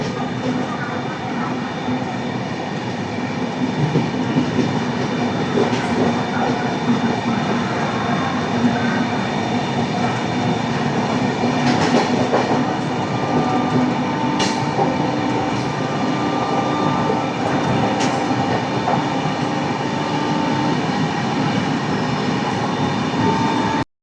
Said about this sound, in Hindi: यहाँ पे हमारी ट्रेन जो है वो स्किप कर रही है अलीगढ़ जंक्शन को